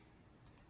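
Two quick, crisp computer mouse clicks land a fraction of a second apart against a quiet, near-silent background.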